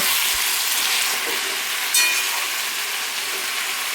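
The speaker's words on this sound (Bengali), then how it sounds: "পুঁই শাকটা দিয়ে আমি একদম কম আঁচ করে আস্তে আস্তে করে রান্না করব" Malabar spinach with rohu fish head cooks slowly on low heat, a steady soft hiss and sizzle with a faint metallic click partway through.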